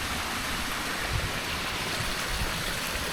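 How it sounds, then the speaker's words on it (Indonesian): A small spring-fed stream babbles and splashes steadily close by, a continuous broadband rush of running water with no voices. "Kamu mendengar suara gercikan mata air nggak sih?"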